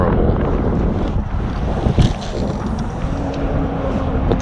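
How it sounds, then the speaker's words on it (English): Strong wind roars across a creek near sundown, buffeting the microphone in a continuous loud rumble with gusty surges and faint water chop underneath; nobody speaks. "Man, this wind is really kicking up."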